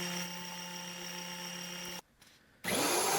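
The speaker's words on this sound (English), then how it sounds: "Take it over to the belt and disc sander just to smooth out the edge using the disc" A belt and disc sander grinds against a wood edge with a steady, loud whir and tonal hum, cutting out briefly to near silence before resuming at full power.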